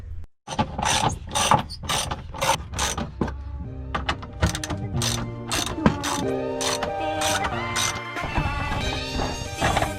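A fuel pump access cap on a Nissan is loosened with a ratchet, giving rapid, close metallic clicks in uneven bursts with occasional clunks and no talking.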